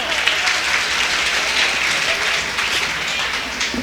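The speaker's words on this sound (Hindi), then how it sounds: "ताली बजा सकते हो।" An audience at a Hindi comic poetry gathering breaks into steady, dense applause, a continuous wash of many hands clapping with no pauses throughout.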